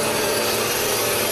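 An electric saw cuts wood in a traditional Korean carpenters' timber-working yard, giving a loud, continuous, close rasping roar with no break.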